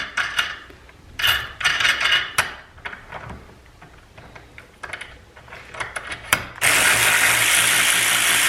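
A Harbor Freight Earthquake XT cordless ratchet tightens a fastener, with several short bursts of whirring ratchet clicks followed by a louder sustained burst near the end, heard close and alone without talk.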